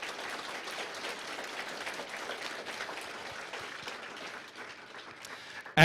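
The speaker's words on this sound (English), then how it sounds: "a round of applause for all of our candidates." An audience at an election candidates' debate in Prince George gives a round of applause, steady dense clapping lasting several seconds with no talking over it.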